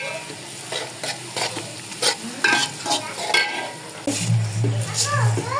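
Pilau rice frying and being stirred in a pot, with repeated scraping strokes over a steady sizzle, close and clear; a voice talks briefly over it.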